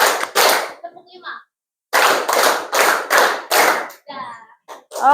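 A classroom group claps in a counting rhythm game, loud synchronized bursts: two at the start, then five evenly spaced claps after a short pause, with a voice speaking between the sets.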